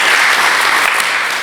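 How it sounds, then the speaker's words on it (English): An audience at a leadership breakfast claps steadily, a dense, fairly loud wash of applause from many hands filling the room without talk. "oh, you can clap, sorry."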